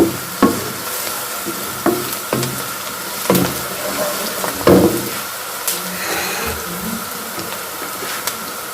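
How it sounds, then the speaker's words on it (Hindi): Potatoes frying with qeema in a pan, loud close stirring scrapes and knocks every second or so over a soft continuous sizzle. "अब इनके साथ ही मैं आलू को भी भून लूँगी"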